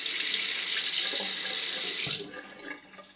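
An Occam's OREN shaving razor is rinsed under a running tap, a loud steady gush of close water for about two seconds that cuts off, leaving faint dripping and handling noises.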